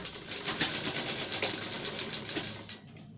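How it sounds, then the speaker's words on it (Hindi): An electric sewing machine runs steadily, stitching a kurti collar neckline with a fast, even mechanical whir and rhythmic needle ticking, close and alone, then slows and stops near the end. "हम आपको सिलाई लगा दिखाते हैं किस तरह से सिलाई लगा सकते हैं बहुत आसानी के साथ, इस तरह से।"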